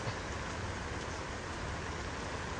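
Heavy rain pours steadily near a goat pen, a dense, constant hiss with no pauses or voices.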